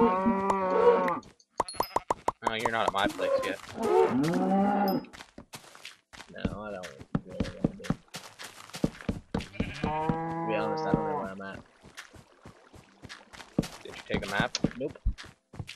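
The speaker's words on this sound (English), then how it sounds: "Oh, there's two cows." Cows in the video game Minecraft moo in several repeated low, drawn-out calls alongside blocky footsteps and plopping effects, while two players talk over them throughout.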